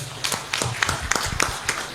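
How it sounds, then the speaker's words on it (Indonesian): Audience applause at a 2024 work-meeting talk show, a scattered run of claps of moderate loudness lasting a couple of seconds. "Tepuk tangan untuk pemerintah kita yang baru"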